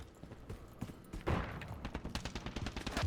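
Rapid bursts of automatic gunfire crackle in Call of Duty: Modern Warfare 3, a fast rattling string of shots that grows denser and louder after a brief pause.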